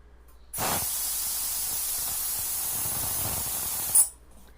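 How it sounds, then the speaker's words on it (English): Compressed air rushes out of a Harbor Freight portable air tank through a speed inflator, a loud steady hiss lasting several seconds that cuts off sharply with a brief final burst. "if I put this speed inflator in here and then open it up, air comes out fast. In fact, I'm going to drain the tank on purpose here."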